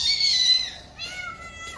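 A cat that has come into a home meows nearby. There is one drawn-out, falling high cry, then a second shorter call, loud and close with no talk.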